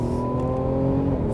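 A 2021 Mercedes E350 4Matic engine revs as its 9-speed automatic shifts during a night drive, a steady, close droning hum with layered tones and no voices.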